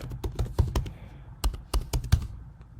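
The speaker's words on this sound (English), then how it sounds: "Yes, so I'm going to type my password." Password being typed on a computer keyboard during setup of a virtual machine in Microsoft Azure, a quick irregular run of close, crisp key taps with a short pause midway and no voice.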